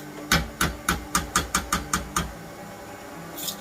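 A utensil knocks sharply against the side of a pan about nine times in quick, even succession, close and clear, then stops.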